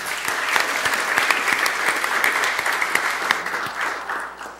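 An audience at a Peoria city council meeting claps warmly in welcome, a dense, steady round of applause lasting several seconds and tapering slightly at the end, with no voices over it.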